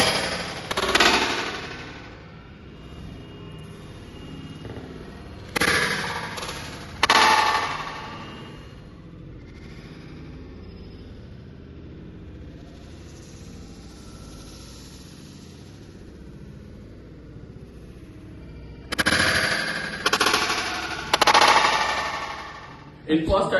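Several sharp gunshots aimed at a bottle ring out in separate bursts with quiet stretches between, each crack leaving a bright metallic clang.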